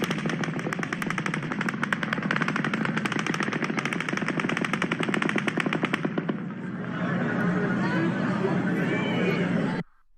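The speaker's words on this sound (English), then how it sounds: "Another really long burst. That was not a 30-round mag." A long, rapid burst of automatic gunfire rattles continuously for about six seconds, then gives way to shouting and commotion before cutting off.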